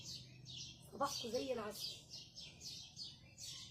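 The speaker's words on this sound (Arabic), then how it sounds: "لو ركزتوا هتسمعوا صوت العصافير" Small birds chirp and tweet outdoors at dawn around 5:30 in the morning, a faint string of quick, regular high calls. A voice speaks briefly over them partway through.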